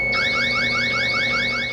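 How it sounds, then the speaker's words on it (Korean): A gas detector's carbon monoxide alarm, tied to a boiler shutoff, sounds a loud, rapid, repeating electronic siren of sweeping warble tones, continuous and close throughout. "일산화탄소의 농도가 경보 이하의 농도로 될 때까지 경보를 알려준다는데"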